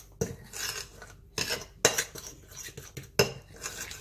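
Apple kiwi pancake batter being mixed in a bowl with a utensil, a steady close scraping and swishing broken by several sharp clinks against the bowl's side.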